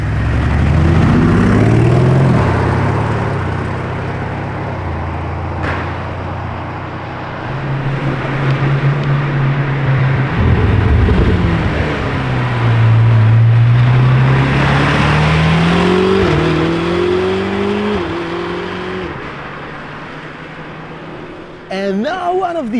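Orange Lamborghini Urus SE engine revving outdoors, its note rising and falling through several swells across the stretch, loud and close, with people talking over it.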